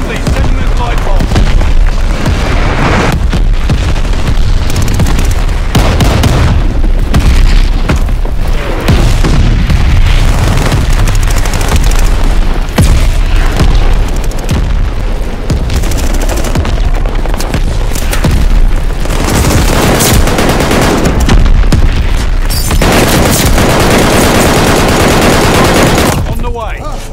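Shells and grenades explode amid gunfire in Call of Duty Vanguard on PS5 with a Marlin Model 1917 rifle, a loud, dense, continuous barrage of booms and rapid shots with voices calling out over the combat.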